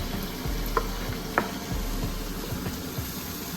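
Garlic and ginger roasting in a pan give a steady close sizzle and frying hiss, with a couple of brief sharp clicks from a stirring utensil.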